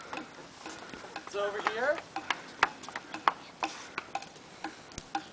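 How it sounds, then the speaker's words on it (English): Mysterious ticking noise, a steady run of sharp, evenly spaced ticks with a brief voice speaking early on, the ticks continuing alone afterward. "What's that mysterious ticking noise?"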